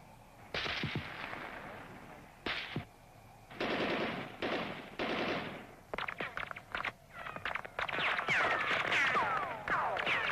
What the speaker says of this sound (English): the two terrorists are eliminated by machine gun fire from the protected guard position